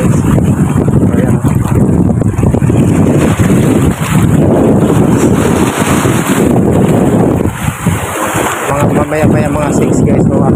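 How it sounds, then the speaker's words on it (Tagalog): Strong wind buffets the microphone in a constant roar, with water sloshing underneath and a person talking intermittently over it, out on the water on a fishing trip. "Malakas na yung hangin. Malakas na yung hangin guys."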